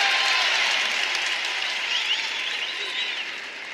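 Crowd applause at a college wrestling match, West Virginia versus Oklahoma State: dense, sustained clapping filling a large arena, fading slightly toward the end.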